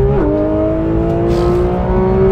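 A VW 1303 engine is accelerating hard, a loud, steady, rising drone that stays up close throughout, with no talk over it.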